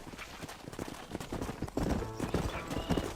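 Horse hooves clip-clop steadily on the ground in the Red Dead Redemption video game, a rhythmic trotting beat that grows louder partway through, with game music and ambience underneath.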